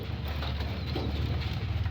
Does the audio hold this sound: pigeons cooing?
yes